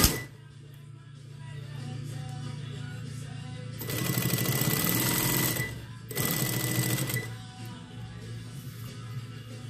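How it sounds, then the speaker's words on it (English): A sewing machine stitches a half-inch seam allowance on a dress bodice, with two close bursts of fast, even whirring of a few seconds each, separated by a short pause, against a quiet room hum. "we're gonna sew the half inch seam allowance"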